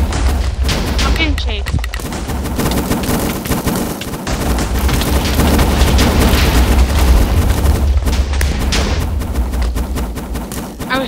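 Dense, rapid gunfire from the combat video game IronFall, loud and nearly continuous with sharp bursts throughout, while players talk over it.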